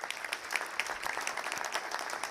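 An audience at a National Signing Day ceremony for construction technology students claps in a steady, moderately distant round of applause, with no speech over it.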